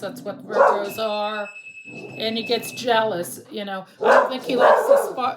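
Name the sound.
dog barking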